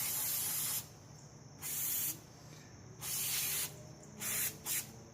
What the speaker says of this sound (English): So I'm going to take some brake cleaner, and we'll start with this right here.